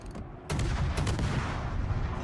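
Heavy naval shells fire in World of Warships, a loud booming salvo followed by a second blast and a long rumbling tail.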